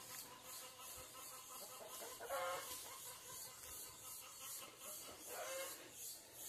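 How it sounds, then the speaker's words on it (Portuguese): A rooster crows faintly in the distance, twice, over a steady background of buzzing cicadas in a rural backyard in Maranhão, Brazil. "Escutando o barulho do galo."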